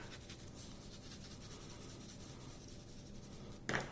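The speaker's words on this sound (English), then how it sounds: "I'm going to use an ebony pencil" An ebony pencil is shaded lightly across paper in a soft, steady scratchy rub that runs continuously at close range, ending in a brief louder stroke.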